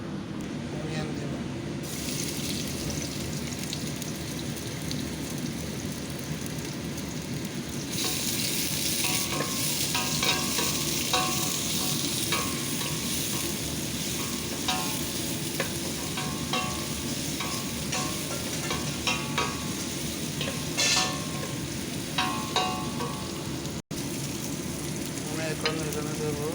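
Onion, eggplant, gourd, potato and capsicum fry and are stirred in a pan, a continuous loud sizzle with repeated scraping stirs growing busier midway, and a faint voice at times.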